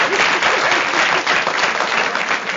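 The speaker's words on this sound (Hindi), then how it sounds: "देखिए तालियां।" Audience applause during a television interview, a dense, loud burst of clapping from a crowd that continues throughout without talk.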